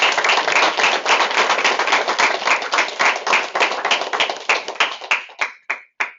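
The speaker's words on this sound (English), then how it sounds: "Can we give them a big round of applause?" A room of people at a direct-sales fast start training gives a steady round of clapping that thins out into a few scattered final claps.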